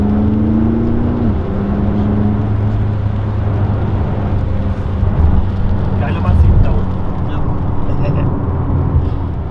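A McLaren 570S with 570 PS hums loud and close as the throttle is worked, its steady engine drone shifting in pitch early on, with a voice talking over it.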